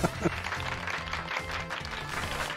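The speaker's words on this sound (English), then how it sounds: "Clapping." Short burst of applause and clapping in Pokémon Scarlet over light electronic game music, brief and moderately loud.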